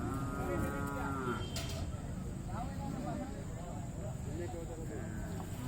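Cows lowing at the crowded Magadi cattle fair, a moo near the start over dense crowd chatter and outdoor bustle, with people talking close by throughout.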